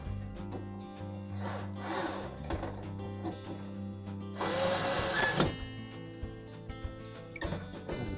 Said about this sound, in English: And we'll install the retaining screw for that mounting bracket.